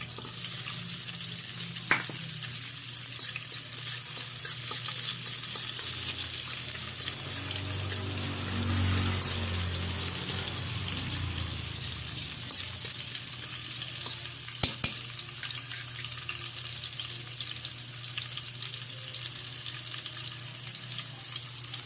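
Chopped onions fry in a pan for a Filipino broccoli and pork dish, a steady close sizzle with occasional stirring clinks and scrapes, no speech.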